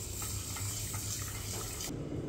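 Indrayani rice and moong dal washed under running water, a soft steady splash and trickle from a tap into a vessel that cuts off near the end, quiet and close.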